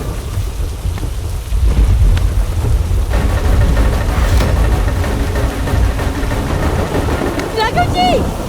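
A loud thunderstorm roars with heavy rain pouring steadily and deep thunder rumbling throughout, a dramatic storm scene in a Hindi television drama, with a voice speaking over the downpour.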